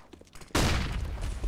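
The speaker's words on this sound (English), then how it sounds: "That's the AWP" A single loud AWP sniper rifle shot in CS:GO cracks out abruptly after a short quiet lead-in of faint game noise, then rings with a broad, lingering echo tail.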